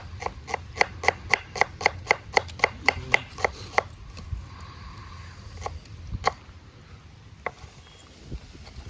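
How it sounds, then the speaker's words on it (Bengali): An onion is finely chopped with a knife at an outdoor picnic, giving a quick, regular run of crisp blade taps on a board, followed by a few scattered chops against windy background noise. "ছিজি করে কুচাতে হবে, ওরকম মোটা মোটা করলে হবে না।"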